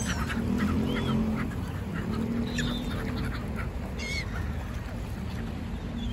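Geese honk repeatedly by Lake Geneva near the shore, with a steady outdoor wash of water and wind beneath the calls, which come from a moderate distance.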